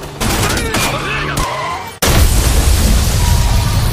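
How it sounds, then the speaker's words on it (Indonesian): Gunfire in a film's gang shootout comes as loud, dense bursts of shots and booms, first with rapid cracks over a dramatic score, then a heavier sustained barrage of blasts. "geng yang sedang terlibat baku tembak"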